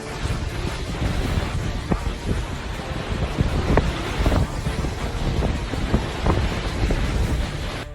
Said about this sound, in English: Floodwaters wash debris down a street.